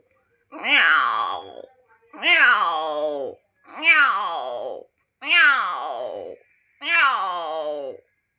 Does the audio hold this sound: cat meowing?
yes